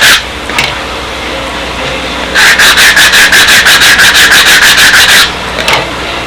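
Sanding block rubbed over plywood in a workshop, a short stroke at the start, then a run of about a dozen loud, even back-and-forth strokes in steady rhythm, close and alone with no talk.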